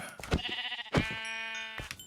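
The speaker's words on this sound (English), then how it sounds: "Exploding sheep." Sheep bleating in the Minecraft GTNH video game: a few short, nasal bleats in quick succession, close and fairly loud, with no talk over them.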